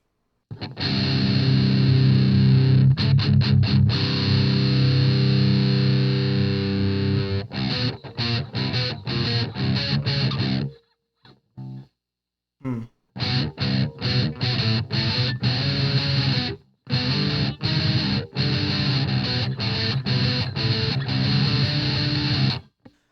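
An electric guitar played through a VOX Amplug 2 Metal headphone amp with the gain around five gives heavily distorted chugging riffs and sustained chords, cut by sharp gated pauses and brief silences between phrases.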